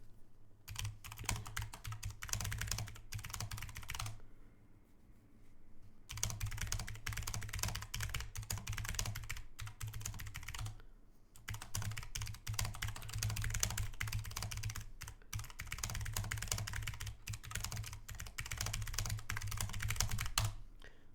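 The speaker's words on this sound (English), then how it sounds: "Sorry, I have secretary typing." Someone types steadily on a computer keyboard in a home streaming setup, a dense run of close, crisp key clicks with brief pauses between bursts, continuing alone without talk for about twenty seconds.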